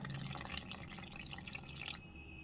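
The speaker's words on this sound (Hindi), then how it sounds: "तो ये हमने पानी डाला।" Water poured gradually from a bowl into flour for kneading dough, a faint trickling and dripping close by in a quiet kitchen.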